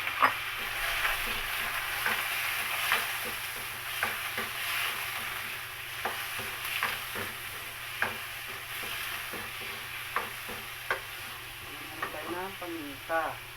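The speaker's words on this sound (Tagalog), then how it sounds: "Lagay na natin yung ating chicken guys." Chicken frying in a pan with a steady sizzle, broken by repeated short scraping and stirring clicks. Close and moderately loud, with no talk over it.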